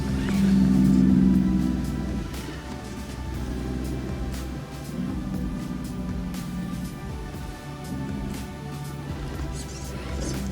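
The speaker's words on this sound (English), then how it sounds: "It's a lovely quiet motor." A quiet electric motor drives an Element RC Enduro Ecto crawler with an SC408 ESC, a low hum with soft rumbling and occasional light knocks as the crawler moves, heard close with no talking.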